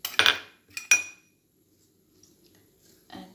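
Metal spoon mixing dal with mustard seeds in a bowl: a few sharp clinks and scrapes against the bowl in the first second, then near silence with a faint soft knock at the end.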